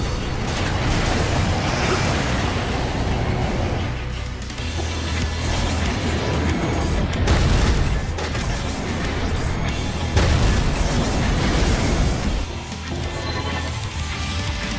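Sustained gunfire pours onto a large target facility in the mech action game Daemon X Machina, a dense, loud barrage of crashing impacts and booms that surges and dips slightly without letting up.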